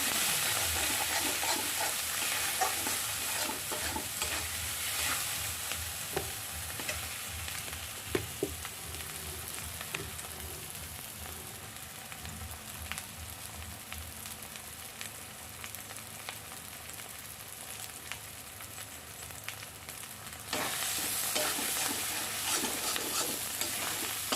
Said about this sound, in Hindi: इस तरह से इसको एकदम कम लो फ्लेम पे इसको भूनना है